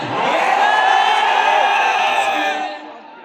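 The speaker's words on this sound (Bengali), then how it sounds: "পাবনা জেলা স্কুলে বড় একটা চিৎকার শুনতে চাই" A large crowd at a school event in Pabna shouts and cheers in one loud, sustained roar that fades near the end. The sound is dense and mixed, with no single voice standing out.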